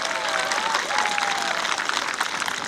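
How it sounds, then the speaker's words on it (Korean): A crowd of elderly people at a senior citizens' sports festival in Icheon applauds steadily and densely throughout, with a murmur of crowd voices mixed into the clapping. "박수 박수."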